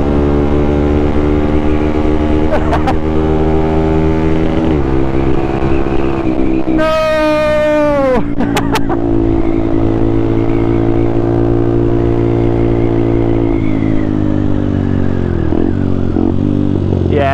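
Benelli TNT 125 four-stroke motorcycle engine running steadily at close range, a continuous harmonic drone with a brief rising rev sweep partway through and small pitch dips later.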